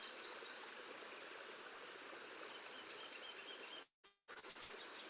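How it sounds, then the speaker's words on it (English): A dark-eyed junco gives a few sharp, dry smacking call notes, small and fairly distant, over a steady rushing wash like a nearby stream. "So here's a dark-eyed junco,"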